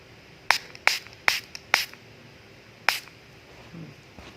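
Spray bottle spritzing onto cotton pads: five short, sharp, close bursts, four in quick succession and then one more after a pause, with no talking.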